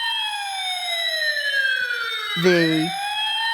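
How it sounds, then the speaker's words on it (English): Electronic fire engine siren from an E-Blox circuit builder kit wails in long descending sweeps, loud and piercing, with a brief burst of lower buzzing tones near the end and a single word spoken faintly. "in order to make the fire engine siren sound"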